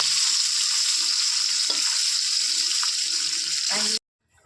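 Water poured into a hot pan of hilsa fish curry gives a loud, steady hissing rush for about four seconds, then cuts off abruptly into near silence.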